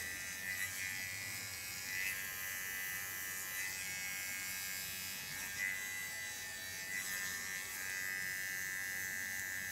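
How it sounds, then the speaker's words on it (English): A small Kione hair clipper buzzes continuously while trimming the hair contour along the skin, a close, steady high-pitched electric whine with slight fluctuations as it moves. "With my small Kione clipper I clean the contour."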